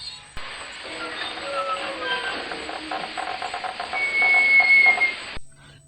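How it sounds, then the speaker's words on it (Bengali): A train rolls into a station and comes to a halt, a steady rumbling hiss of rail wagons with metallic wheel squeals rising toward the end before the sound cuts off. It is a story sound effect with no voices. "ট্রেনটা এসে থামল।"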